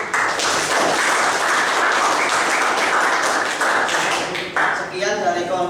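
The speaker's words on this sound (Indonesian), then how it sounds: "Oke, kasih aplaus dulu." A classroom group in a teacher-training practice session breaks into steady applause, a dense, even patter of many hands that holds for several seconds before thinning out near the end.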